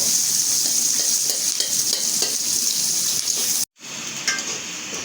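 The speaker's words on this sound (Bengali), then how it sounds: "পেঁয়াজটি একটু ভাজে নেব" Onions sizzling in a hot pan, a dense continuous hiss that briefly cuts out near the end before resuming slightly quieter.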